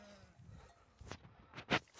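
Qaradolaq breed sheep and lambs in a flock give a couple of short bleats, one louder near the end, over faint background noise.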